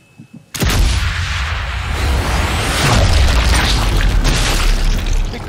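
Gunshots in Sniper Elite 5: after a short quiet start, a sudden loud blast erupts, followed by more booming shots and a dense rumbling tail.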